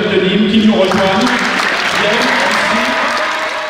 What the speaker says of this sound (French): d'applaudir tous les bénévoles du club de Nîmes qui nous rejoignent